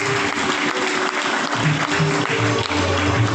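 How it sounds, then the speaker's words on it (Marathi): An audience of parents and children claps for prize winners at a school event, a dense, loud, continuous round of applause lasting the whole stretch. "सर्व विजेत्यांनी आणि पालकांनी टाळ्या वाजवून त्यांचा उत्साह वाढवायचा आहे."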